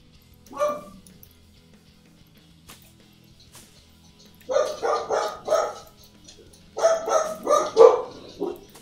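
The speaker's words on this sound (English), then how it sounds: "Please excuse my dogs. I don't know what they're barking at." Several dogs bark indoors in bursts, one short yelp early on, then two clusters of rapid, fairly loud barks close to the listener with a quiet gap between them.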